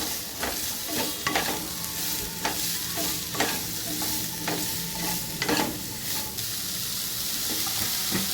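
Baby corn gravy frying in a pan, a steady hiss of sizzling broken by repeated scraping strokes as it is stirred.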